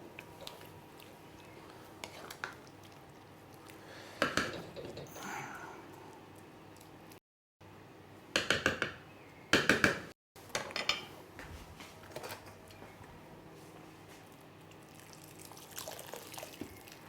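Mashed rice with truffle and goat meat is stirred in a pot, giving intermittent scraping and clinking of a utensil against the metal, with soft wet mixing sounds between the bursts and a brief quiet gap.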